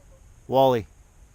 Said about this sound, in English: My cat, sorry. He's interrupting.